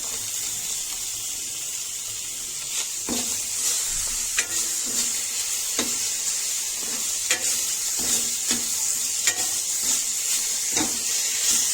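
Finely chopped tomato frying in a pan with turmeric for a Bhogi vegetable dish, a constant bright sizzle broken by regular scraping and tapping strokes of a spoon, near and steady, with no speech.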